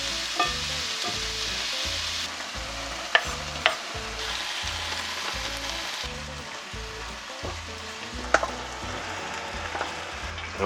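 Mushrooms frying in a pan, a continuous crackling sizzle with a rhythmic scraping of a stirring utensil roughly every half second and a few sharp metallic knocks against the pan.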